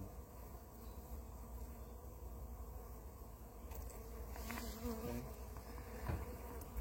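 Honey bees buzz densely and continuously at an open hive during a varroa treatment inspection, a steady close hum with a few nearer passes and faint handling noises.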